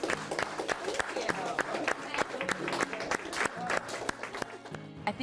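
Audience applause rings out in a loud burst of dense clapping, with sharp claps standing out, while voices and tonal sounds carry on underneath through the whole stretch.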